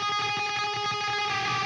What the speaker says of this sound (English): And then I have some room reverb, which sounds like this.